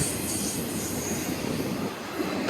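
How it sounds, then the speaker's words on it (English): A freight train rumbling past at a rail yard near Rawlins, Wyoming: a loud, continuous low roar and rolling rumble with a steady wash of wheel and track noise throughout. "You could still hear the rumble."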